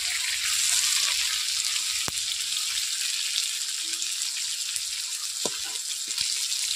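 Tomatoes frying in a pan for a tomato pickle, a steady dense hiss of sizzling with occasional soft knocks from stirring, close and continuous without talk.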